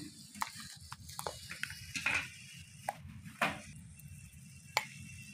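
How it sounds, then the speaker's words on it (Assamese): Chicken meat simmering in a pot with a little salt, a steady bubbling, frying-like sizzle with occasional sharp stirring clinks and scrapes, close and fairly quiet, no talk. "মাংস দি দিছোঁ এতিয়া প্ৰথমতে মাংসখিনি ভালকৈ সিজাই ল'ম"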